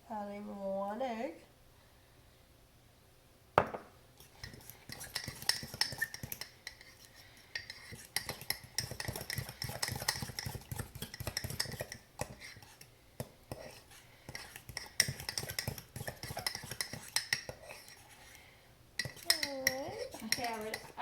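An egg stirred into mug cake batter with a utensil, light repeated scraping and clinking against the mug, close and fairly quiet, with a voice talking at the start and end.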